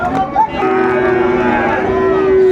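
A loud, close, drawn-out moo from Fleckvieh cattle at a livestock market in Bangladesh holds steady for about two seconds, with only faint background market noise and almost no talk.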